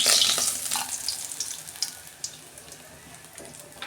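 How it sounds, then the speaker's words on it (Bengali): Potatoes fry in hot oil in a home kitchen after pomfret fish, a bright crackling sizzle that starts loud and slowly settles, with small pops and no talk. "আলুটা ওই তেলে আলুটা ভেজে নিচ্ছি।"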